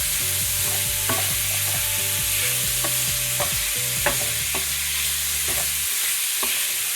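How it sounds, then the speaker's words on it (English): Bacon strips render their fat in a hot pan, giving a constant close sizzle with scattered clinks and scrapes of a utensil moving the pieces around. "what we're going to do here is render out the fat in the bacon"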